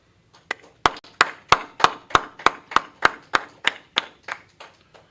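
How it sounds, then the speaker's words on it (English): A rhythmic series of about fourteen sharp hand claps at a steady beat, fairly loud and close, with no talking over them, at an ISUPK law class gathering. "All right, clap it up."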